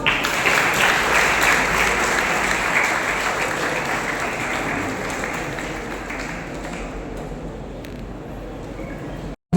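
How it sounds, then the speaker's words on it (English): Dense audience applause at a ceremony honouring meritorious students, loud and sustained clapping from a large crowd that fades slightly before cutting off abruptly near the end. "Big round of applause."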